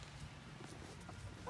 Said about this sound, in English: Chickens jumping on top of the cage.